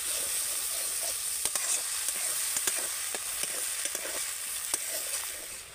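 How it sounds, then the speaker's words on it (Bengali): Spices and home-set yogurt for a vegetarian potol curry fry in a pan with a steady sizzle, broken by scraping stirs and occasional spatula knocks, close and moderately loud with no talk. "এবার আমি মশলার সাথে খুব ভালো করে কষিয়ে নেব।"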